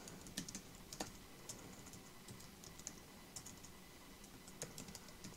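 Computer keyboard typing during software work, a steady run of light, fairly close key clicks with small irregular bursts and no talk.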